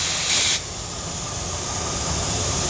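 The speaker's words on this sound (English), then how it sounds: "with the paint gun, if you pull a small amount in, you just get air." A paint spray gun gives a loud, close, continuous hiss of air and spray, with a brighter burst at the start before settling into a steady rush.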